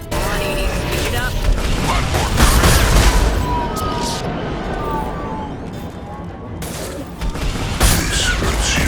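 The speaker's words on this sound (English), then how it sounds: "Taking fire. Firing a high-impact shot." Scattered shots and heavy impacts thud through a noisy battle in the video game Mass Effect 2, with sustained rumbling combat noise and voices speaking over the action.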